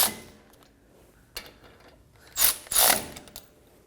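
A ratchet snugs up brake caliper bolts on a Nissan Armada, giving a few close, sharp clicking bursts of the pawl with short pauses between strokes, loud against a quiet background and with no speech.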